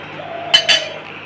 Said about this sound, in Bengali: আবারও ঢাকনা লাগিয়ে দিলাম।